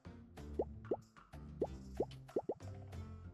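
Soft plopping blips as wheat seeds are planted in the fantasy farming game Sun Haven, about six short separate pops over a light background music bed, with no voices.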